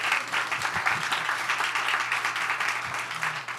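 Audience applause during an inauguration speech, dense, steady clapping from a crowd lasting a few seconds, loud and close with a faint low hum underneath.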